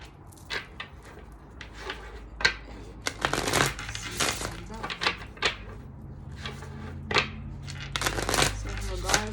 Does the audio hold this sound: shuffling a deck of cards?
yes